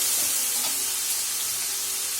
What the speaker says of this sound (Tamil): வெங்காயம் இதுக்கு வதங்கிட்டு இதில் தக்காளியை போட்டுவோம்.